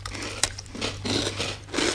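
Bites into a crunchy polenta orange biscuit: a sharp crack, then a few more close-up crunching bursts of chewing, with no talking.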